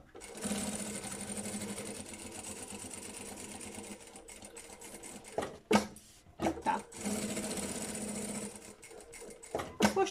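A sewing machine stitches a fabric pencil case with elastic, a close rapid mechanical whirr running in steady bursts with short pauses and a few clicks between them.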